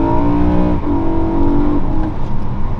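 A BMW E92 M3 V8 pulls hard under acceleration from about 30 to 60, its engine note climbing steadily in pitch, easing briefly, then climbing again. The sound is loud, close and continuous, with no talking over it.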